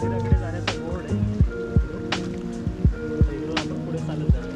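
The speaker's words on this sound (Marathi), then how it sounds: "पाऊस तर पडतोय, धुकं पण आहे खूप एकदम" Heavy monsoon rain falls in dense fog on a drive toward Pen. A steady wash of rain runs under a low hum, with rhythmic thuds at regular intervals, close and moderately loud.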